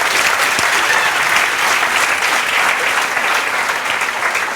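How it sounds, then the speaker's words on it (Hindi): Loud, sustained applause from a crowd cheering a brother and sister who both landed government jobs, a steady unbroken wash of many hands clapping close by. "ज़ोरदार तालियां बजाओ"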